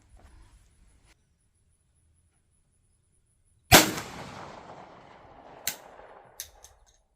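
A single loud close shotgun blast from a .410 firing a 175 grain 10mm slug handload, a sharp crack that rings out and decays, then faint clanks from handling after quiet.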